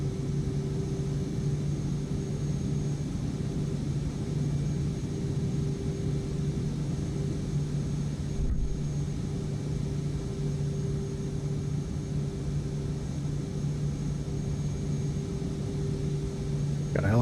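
Steady droning engine of a Cirrus light aircraft in the FS2024 flight simulator, building power for takeoff, with a constant low hum and a fixed tonal whine holding loud and even throughout.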